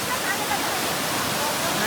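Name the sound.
waterfall at Tamhini Ghat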